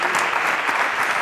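A studio audience applauds in a dense, steady burst of clapping, loud and close, filling the whole short moment without a break.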